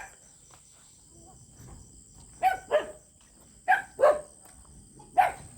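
A dog barks outdoors at night, five sharp barks in loose pairs at moderate distance, over a constant high insect chirring and faint background hum.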